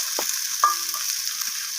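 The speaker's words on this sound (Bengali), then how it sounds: "মাছ টমেটো আলু সমস্ত কিছু আমি আবারও এইভাবে কষিয়ে নিচ্ছি" Fish, tomato and potato curry frying in a pan under a steady high hiss, with a couple of brief utensil scrapes as it is stirred, heard up close.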